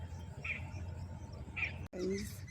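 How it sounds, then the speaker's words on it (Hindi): Birds call in the morning over village fields and orchards, a few short chirps standing out from a steady background of outdoor noise, with a brief gap before another burst of calls. "इसी तरीके से आवाज़ें आती हैं। पक्षी बोलते हैं ना सुबह सुबह।"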